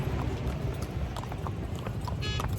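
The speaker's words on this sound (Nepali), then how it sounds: "यो घोडा बाङ्गो कुद्दो रहेछ" Horse hooves clip-clopping at a run along an off-road trail in Kanyam, Ilam, a steady rapid patter over constant broadband outdoor noise, fairly close, with no talk.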